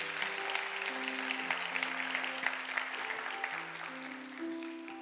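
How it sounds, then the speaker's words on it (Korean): Steady, dense applause from a church congregation continues throughout, with sustained musical tones underneath. "우리 수고해 주신 아버지와 따님께 감사의 박수 올리겠습니다."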